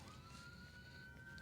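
Emergency vehicle sirens, an ambulance and a fire truck, pass by outside as a steady rising wail, distant and muffled under a constant broad background noise, with no talking.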